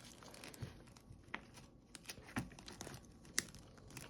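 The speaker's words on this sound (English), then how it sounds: "Then some more shuffling." A deck of cards being shuffled at close range, faint soft riffling and crinkly flicks broken by a few sharper snaps.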